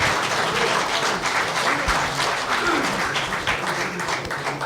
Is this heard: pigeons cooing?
no